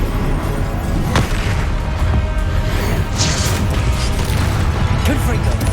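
An Expelliarmus spell cast in Hogwarts Legacy, heard as a dense, loud rumble of magical bursts and booms with a few sharp cracks, mixed into continuous game noise with voices present.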